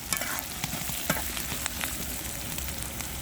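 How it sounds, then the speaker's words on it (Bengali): Onions, green chillies and bay leaves frying in a pan for a chickpea curry, with a steady close sizzle and intermittent stirring scrapes, no voices. "এখানে পেঁয়াজ, কাঁচামরিচ আর তেজপাতা দিয়ে দিচ্ছি।"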